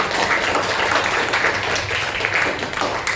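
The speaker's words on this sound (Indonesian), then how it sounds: "tepuk tangan dulu semuanya" Pupils in a classroom clap together in a steady, dense burst, a continuous patter of many hands close by, with a faint voice mixed in.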